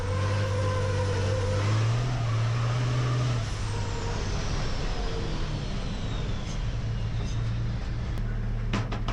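A racing truck engine at the 24 Hours of Le Mans truck race roars loudly during an honour lap with drifting, its drone rising and shifting in pitch, close and steady with no voices over it.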